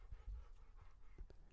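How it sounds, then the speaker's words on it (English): A dog pants steadily nearby, quick rhythmic breaths repeating through the short stretch with no talking. "if you guys can hear that, that's just my dog."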